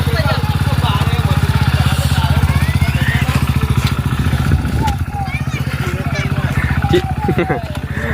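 A motorcycle being started and ridden, its engine running with a steady low throb throughout, heard under loud, continuous talking from people nearby.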